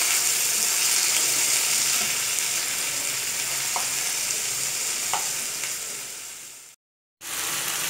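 Seasoned shrimp fry in a pan, producing a loud, dense, continuous sizzle close up that cuts out abruptly for a moment near the end before resuming.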